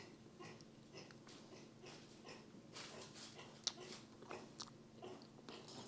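Soft, close chewing and crunchy bites of strawberry cake during a taste test, with irregular mouth sounds and small crisp clicks over a low steady background hum.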